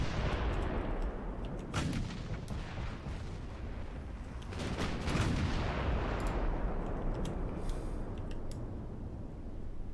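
Heavy naval gunfire from battleship and battle cruiser guns, including 12-inch main batteries, in the naval warfare game Ultimate Admiral: Dreadnoughts: loud booming salvos at intervals over a constant rumbling battle backdrop.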